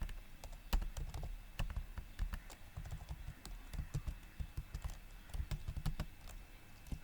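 Computer keyboard typing while writing JavaScript code, a close, quiet stream of irregular key clicks and taps with brief pauses throughout.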